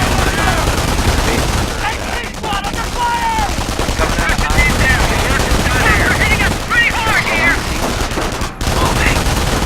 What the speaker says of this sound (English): We need to take out this light machine gun nest.